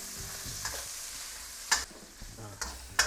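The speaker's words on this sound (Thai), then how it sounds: "อันนี้นะครับเจียว เบคอนจนพอหอมนะครับ" Bacon crisping in a small amount of oil in a pan gives a steady, quiet sizzle, with a few sharper utensil clacks against the pan.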